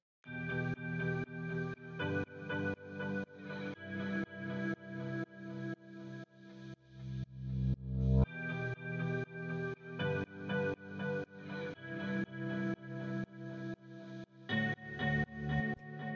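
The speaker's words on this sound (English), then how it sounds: "So the next thing I'm going to show you is this guitar" A guitar playing a chord progression through effects, rhythmic strummed chords repeating steadily with echo and chorus-like shimmer, heard alone and fairly loud throughout.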